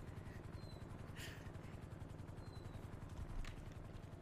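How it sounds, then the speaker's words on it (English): A steady low rotor thrum drones throughout, like a helicopter passing at a distance, with a couple of brief hissy bursts over the constant hum. "You hear that helicopter?"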